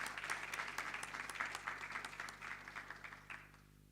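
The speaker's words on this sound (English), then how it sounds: "A round of applause to encourage him as he comes." Audience at a faculty of health sciences research day gives a round of applause for a presenter coming to the stage, fairly faint scattered clapping over a low steady hum, thinning toward the end.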